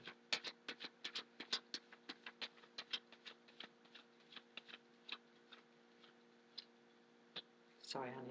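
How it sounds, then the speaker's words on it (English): Tarot cards being shuffled by hand during a Major Arcana reading, heard as a quick run of crisp, close riffling clicks and taps that thin out toward the end, followed by a brief louder rustle. "Major Arcana reading, giving it one more little shuffle."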